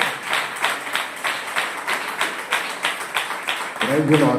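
A church congregation claps hands together in a steady, rhythmic beat, the sharp claps filling the hall and repeating evenly, with a few voices rising near the end.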